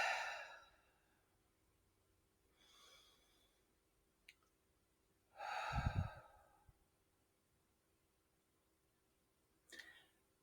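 Slow deep breaths, a long exhale at the start and another heavier one midway with a low rush, softer breaths between, close and quiet with no speech.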